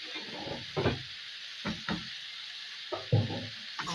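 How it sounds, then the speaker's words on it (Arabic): Vegetables stirred in a pot as they fry, with a soft steady sizzle under several distinct scraping stir strokes, close by and with no talking. "هنزل كمان كده هقلب كده اهو كده لحد ما الخضار ده يدبل معايا"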